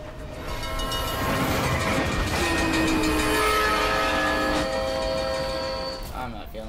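A train rumbles past in the Need For Speed The Run racing game, swelling loudly with horn-like tones and fading near the end, with someone talking over it.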